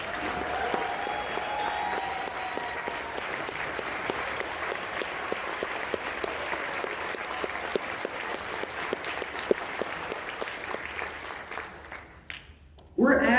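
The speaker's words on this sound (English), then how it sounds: "Please give them a round of applause" Sustained audience applause at a Denton County LBJ/Obama gala, honoring precinct chairs and cluster leaders; dense clapping continues steadily for about twelve seconds, then thins out and stops abruptly near the end.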